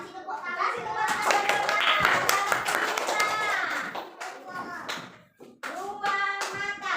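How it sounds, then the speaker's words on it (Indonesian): Children clap their hands in a classroom, bursts of brisk, fairly close applause mixed with kids' voices and an adult speaking, pausing briefly before another round of clapping. "Kasih tepuk tangan."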